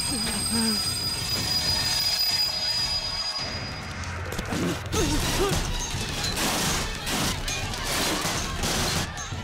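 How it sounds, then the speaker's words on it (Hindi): A train brakes as its wheels squeal, a harsh metallic screech layered with heavy rolling rumble and clanking, loud and close, set as a film sound effect in an action scene. "सही वक्त पर पहुंच ट्रेन को रुकवाओ।"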